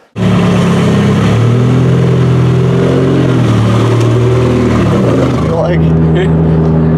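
A turbocharged Chevrolet Cavalier on slicks revs hard from inside the car, its engine a loud, strained drone whose pitch climbs and shifts through gears, with a voice briefly heard near the end.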